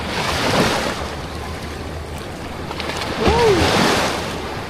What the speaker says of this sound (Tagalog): Na nakakatakot tong alon niya.